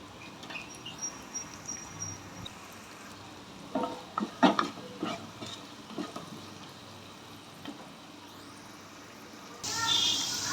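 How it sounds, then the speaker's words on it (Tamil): Onions sautéing with salt in a pan for a snake gourd and prawn stir-fry, a low steady sizzle with scattered scraping stir strokes of a spoon, mostly mid-clip, and a brief louder burst near the end. "வெங்காயம் சீக்கிரம் வதங்குறதுக்காக உப்பு கொஞ்சம் சேர்த்துக்கலாம்"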